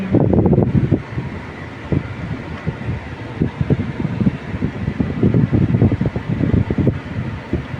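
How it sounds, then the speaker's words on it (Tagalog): Steady roaring rush of air, loud and continuous, with low buffeting gusts and rumbling throughout. "Lakas ng hangin, no?"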